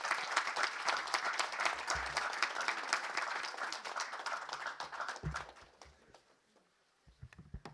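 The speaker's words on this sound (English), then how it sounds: "you already had a round of applause." Audience applause following a speech at a talk on AI and children's safety, a dense burst of clapping that carries for several seconds, tapers and fades out, then a few scattered claps return near the end.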